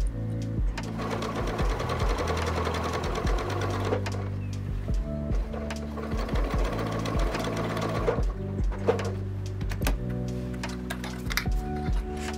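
A sewing machine stitches linen trousers in steady close bursts, its rhythmic mechanical whirr and ticking running almost continuously with brief pauses between runs, and no talking over it.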